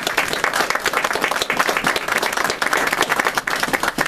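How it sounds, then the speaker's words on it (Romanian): An audience at an art exhibition opening applauds the artist, vigorous close clapping that stays loud and continuous throughout. "De aceea aș zice eu să aplaudăm artistul și arta lui."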